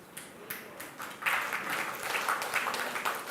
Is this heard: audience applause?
yes